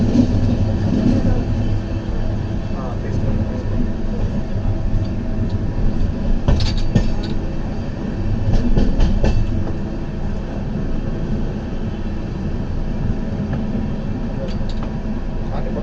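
Steady rumble of the Kirandul Express, train 18551, running between Visakhapatnam and Borraguhalu, with continuous rail noise and occasional clatter throughout.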